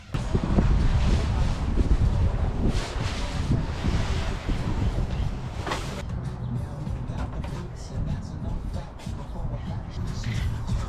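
Steady blustery wind roaring across an outdoor microphone beside a Honda CRX, loud at first then easing slightly, with some rustling and low rumble throughout.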